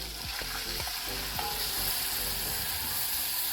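Flour hitting melted butter in a pot for a calzone pizza recipe gives a constant close sizzle, punctuated by several soft scraping knocks from stirring.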